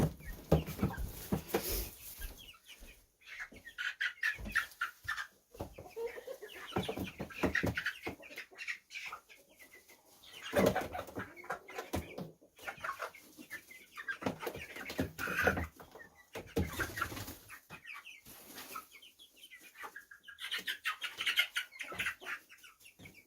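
Chickens cluck and murmur continuously in a barn coop, a busy flock chorus of overlapping calls with occasional louder squawks, heard alone at moderate distance.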